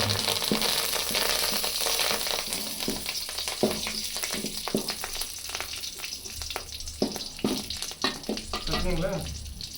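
Curry leaves crackle in hot oil with golden-fried onion for a bachelor-style okra (vendakkai) kulambu. The sizzle is loud and steady throughout, broken by close spatula scrapes and stirring taps.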